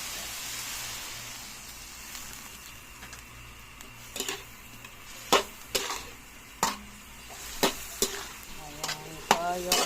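Pancit canton stir-fries in a pan after soy sauce goes in, a low steady sizzle broken by a series of sharp spatula scrapes and clacks against the pan that grow more frequent toward the end.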